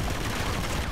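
Dense gunfire from the Uncharted video game, part of the Nathan Drake Collection, crackles as a continuous, loud, rough barrage of shots with no clear gaps through the whole second.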